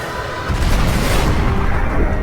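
A deep, continuous rumbling boom accompanies a computer simulation of a Type 1a supernova explosion, loud and dense throughout with no voices.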